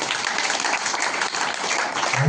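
Audience applause at a felicitation ceremony honouring local achievers, a dense, steady wash of clapping from a crowd filling the whole moment without pause.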